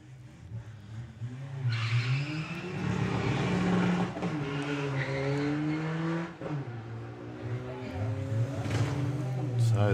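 A VW Golf TDI launches on a drag strip at the Bug Jam festival, its engine revving up through rising, shifting tones with tyre noise, loud and sustained under a commentator's talk.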